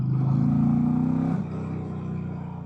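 A 2025 Indian Challenger Elite motorcycle accelerates with a deep, loud engine note that holds steady, then drops abruptly as the throttle eases, settling into a lower rumbling idle.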